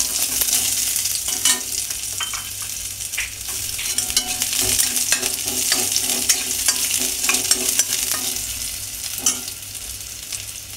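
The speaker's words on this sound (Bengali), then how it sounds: "তেলটা গরম হয়ে গেছে, আমি সেটাকে আমি একটুখানি বানিয়ে নেব। অল্প একটু পেঁয়াজ দিয়ে দিলাম" Onion fries in hot oil with a continuous crackling sizzle, broken by frequent scraping and clinking from stirring in the pan; nobody speaks.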